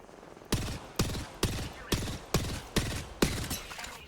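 Gunfire in the video game Apex Legends: seven loud, sharp shots spaced about half a second apart in a steady rhythm, each with a short ringing tail.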